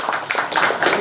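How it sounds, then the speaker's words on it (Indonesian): Audience applause at a dissemination event, a brief, dense burst of many hands clapping at close range. "tepuk tangan untuk Mas Aris."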